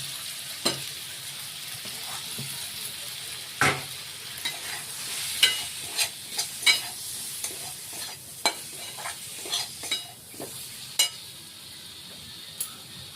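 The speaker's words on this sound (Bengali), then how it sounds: "এই মশলাগুলো আমরা সব মিশিয়ে দিলাম" Ground cumin and coriander being stirred into fried potatoes in a pan for chana masala, a steady low sizzle with irregular scraping and stirring clicks of a spoon against the pan, close and without talk.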